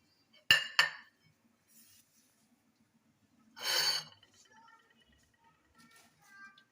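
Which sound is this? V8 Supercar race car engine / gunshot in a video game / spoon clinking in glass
spoon clinking in glass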